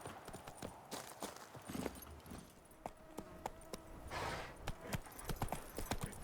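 Hoofbeats of Roach, the horse in The Witcher game, clip-clopping in a steady walking rhythm over ambient game sound, with a faint whinny and a few brief snatches of talk.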